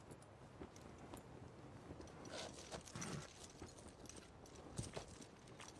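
Horse hooves clip-clopping in a Game of Thrones battlefield scene, a faint, uneven stream of hoof falls on the ground beneath ambient noise, with no voices heard.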